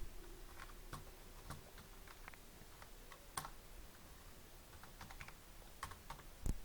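Soft, sparse keyboard typing, scattered key taps with pauses between them in a quiet room.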